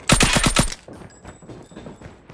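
Rapid gunfire in a Call of Duty Gun Game team deathmatch: a loud burst of about five sharp shots in quick succession at the start, followed by quieter scattered in-game battle sounds.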